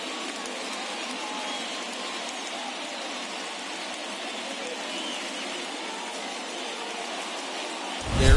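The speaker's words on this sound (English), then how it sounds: "There is rain in the area" Steady rain falls on a ballpark in an MLB The Show baseball game, a dense, even hiss that continues unbroken and fills the scene, cutting off abruptly at the end.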